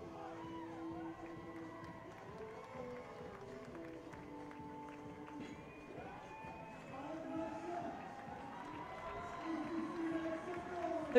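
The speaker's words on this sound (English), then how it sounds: "The crowd cheering for him, as the crowd always does." Crowd cheering and shouting at a CrossFit competition for the last athlete finishing the final round of shoulder-to-overheads, a steady busy roar of voices with an announcer talking over it, swelling louder toward the end.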